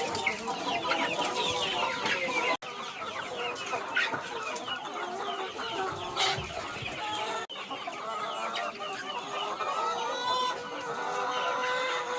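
A flock of free-ranging chickens let out in the early morning, clucking and cackling steadily from close by, with overlapping calls and the odd rooster note over the whole stretch.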